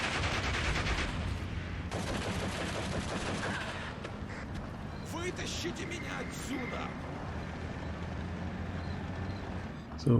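Scout cars and a half-track pour heavy gunfire into a forest in Steel Division 2, a WWII strategy game: dense, continuous bursts of automatic fire crackle throughout, with scattered louder shots and mechanical clatter, and speech is likely present.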